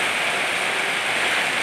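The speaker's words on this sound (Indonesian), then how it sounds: "hujan besar." Heavy rain falls in Jogja, a dense, steady, unbroken hiss that is loud and close throughout, with no voices.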